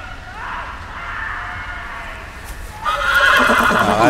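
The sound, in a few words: horse neighing in the Game of Thrones video game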